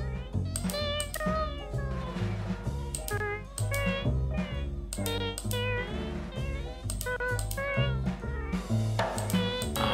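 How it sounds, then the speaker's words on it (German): Cats caterwauling in the Genesis Noir video game, a continuous run of wailing, rising and falling meows layered over rhythmic musical tones, loud and close. "Ist doch Katzengejammer."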